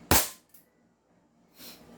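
An airsoft pistol, a GP17 or 2011 Hi-Capa, fires over a chronograph, one sharp close crack followed by a softer pop over a second later.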